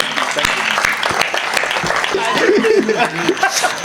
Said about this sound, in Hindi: जोरदार तालियां रोहित के लिए।